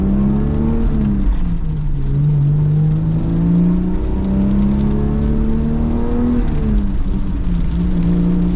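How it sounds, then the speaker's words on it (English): A Toyota Supra with a stock clutch drives along, its engine revving up and settling in loud, close waves of droning tone as gears shift, with no talking. "Man, it's nice driving a stock clutch car"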